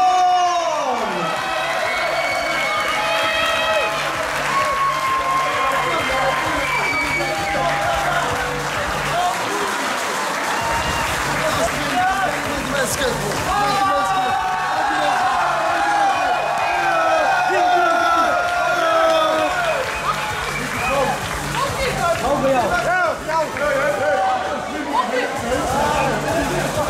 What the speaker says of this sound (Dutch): Graag ook een warm applaus voor